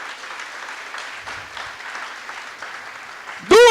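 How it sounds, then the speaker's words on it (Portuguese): A church congregation at a worship service applauds steadily for several seconds, a broad even wash of many hands clapping at moderate distance, ending in a sudden loud burst. "Se você crê, dê um aplauso ao Senhor."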